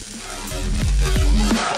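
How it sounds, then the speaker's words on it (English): Onions and curry leaves sizzle in a hot pan for upma, a dense steady hiss with a few soft clatters and thumps rising through the short stretch. "enjoy the sizzling sound of the food."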